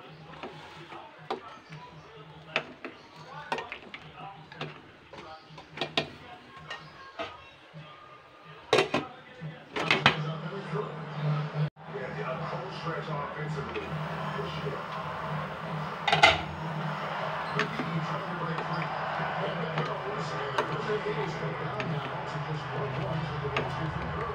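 A spoon stirs hot soup in a metal pot, making scattered clinks and scrapes against the pot. A steadier simmering hiss then fills the background, with a few sharper knocks.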